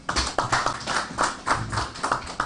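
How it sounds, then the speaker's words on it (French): An audience claps in uneven, loosely rhythmic bursts at a French-language event, fairly close and loud, with individual hand strikes standing out and no voices over it. "vous devez vous applaudir pour vous-même"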